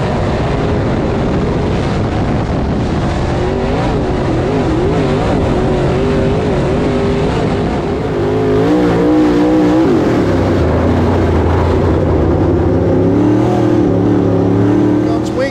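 Dirt late model race cars roar around Swainsboro Raceway, loud continuous engine drone with rising and falling pitch as cars power through turns 3 and 4, a packed field heard close and unbroken.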